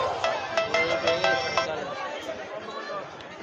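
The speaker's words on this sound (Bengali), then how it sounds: "রিংটোন বাজতেছে।" A phone ringtone plays in repeated electronic bursts during the first half, with a crowd murmuring and chattering throughout.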